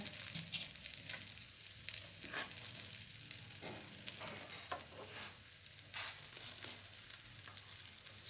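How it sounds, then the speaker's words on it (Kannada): Sweet corn aloo paratha sizzling and frying on a hot pan, a steady crackling hiss with occasional scraping and stirring noises, close and moderately loud, no talking. "ಪರೋಟ ಆಗ್ತಾ ಇದೆ"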